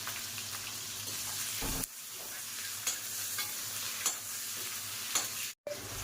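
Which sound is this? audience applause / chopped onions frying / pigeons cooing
chopped onions frying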